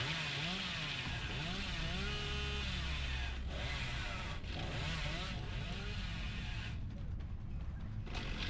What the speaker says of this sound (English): Gonna break the pallet with the chainsaw.